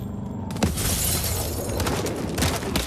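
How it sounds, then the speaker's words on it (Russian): A grenade explodes in Call of Duty Advanced Warfare, a sudden loud blast that sets off a dense, sustained roar of debris and crackling rumble lasting several seconds, with no talking. "Ой, граната."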